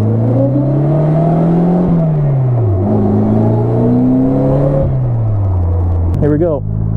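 A Polaris Slingshot three-wheeler accelerates hard, engine pitch climbing through several gear changes with rising harmonic sweeps, loud and close, then a brief squeal near the end.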